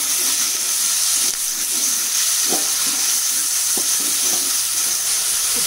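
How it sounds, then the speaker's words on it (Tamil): Tomatoes sauté in a frying pan for a gram-flour chutney, giving a steady, loud sizzle and hiss throughout with a few soft stirring scrapes and clinks near the pan. "தக்காளி வதங்கிடுது."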